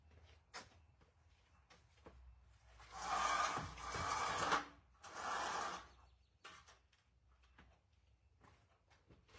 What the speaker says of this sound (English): I'm going to close our door here